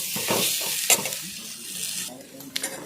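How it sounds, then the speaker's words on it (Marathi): Curry leaves and coriander fry in a pan while being stirred for a village-style green moong dal amti, a close, continuous sizzle broken by scraping strokes and a couple of light clinks. "आता चांगलं परतून घ्यायचं आपल्याला"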